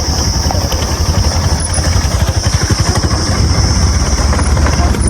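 A motorcycle engine runs on a village road, its steady, close throbbing idle and low rumble continuous throughout with no break.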